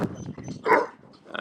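Puppies whimper and give a few short yips and barks close by, a brief burst of excited, high little dog voices.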